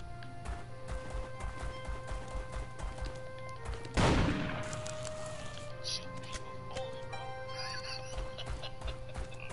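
Horse hooves gallop in a steady, rhythmic clip-clop during a video game, with sustained tonal game sounds behind them and one sharp, loud crash-like burst near the middle.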